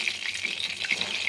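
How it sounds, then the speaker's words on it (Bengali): Onion paste fries in hot oil for an egg korma, giving a continuous close bubbling sizzle with light crackles and no voices. "পেঁয়াজটাকে আমি 1-2 মিনিট ভেজে নেব।"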